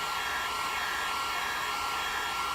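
A heat gun blows steadily on craft material, a continuous loud airy roar without a break from start to finish.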